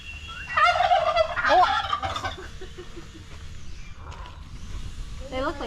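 Turkeys on a working farm in the Philippines gobbling in loud rapid bursts, then quieter, with another gobble at the end, with people talking faintly in the background.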